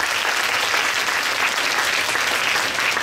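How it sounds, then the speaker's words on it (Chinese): An audience at an education forum applauds with steady, full clapping that stays even from start to finish, no talk. "掌声热烈"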